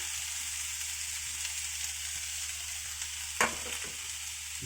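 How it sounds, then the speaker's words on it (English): Chilies sizzling in a hot pan for Indian-style scrambled eggs, giving a steady, soft frying hiss with a brief clatter of stirring near the end. "at the same time I'm gonna heat the chilies"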